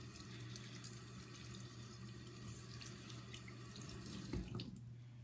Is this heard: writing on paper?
no